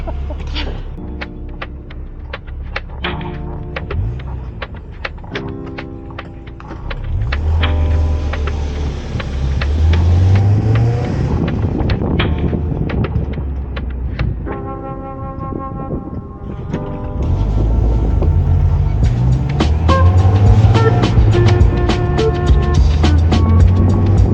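A 1993 Mazda Miata driving in Missouri, its engine droning and rising in pitch through gear changes, loud and close, with clicking and tapping sounds layered over the running engine.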